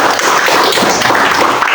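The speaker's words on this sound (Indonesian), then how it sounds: "Tepuk tangan semuanya." A classroom of students claps together in a short, dense burst of applause, loud and close.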